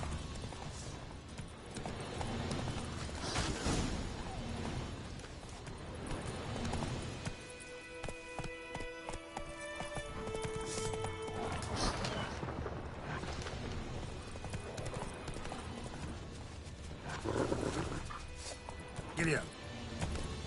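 Horse hooves in The Witcher 3 clop along in steady rhythm under game music and a voice speaking, with a few heavy booms and a tonal interlude partway through.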